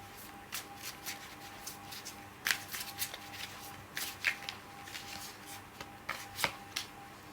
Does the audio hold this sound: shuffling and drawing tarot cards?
yes